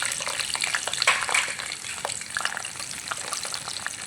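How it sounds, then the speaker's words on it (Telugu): Ivy gourds (tindora) frying in hot oil, a dense close crackling sizzle with popping spatters that carries on steadily throughout. "ఆయిల్ హీట్ అయింది ఇప్పుడు దొండకాయలు ఫ్రై చేసుకుందాం"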